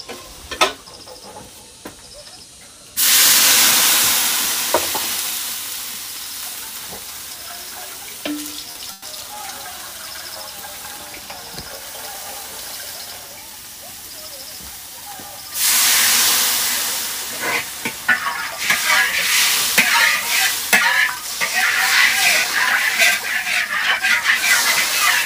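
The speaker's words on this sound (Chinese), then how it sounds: "木耳炒肉，叔叔阿姨们，木耳炒肉" Wood ear mushrooms and pork stir-fry in a wok, a loud hissing sizzle that starts abruptly, eases, then surges again with clattering stirring on top.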